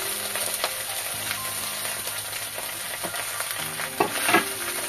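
Salt and grated ginger sizzle and fry steadily in a hot pan while being stirred, with a few scraping clinks of a spatula near the end, close and continuous.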